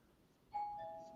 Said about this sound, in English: someone just rang my doorbell.